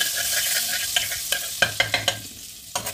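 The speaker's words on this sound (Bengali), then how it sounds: "এতে আমি মাশরুমগুলো দিয়ে দেবো" Mushrooms fry in melted butter in a hot pan, giving a bright, loud sizzle with a burst of quick scraping stirs. No one speaks.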